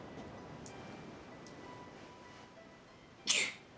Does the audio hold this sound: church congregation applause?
no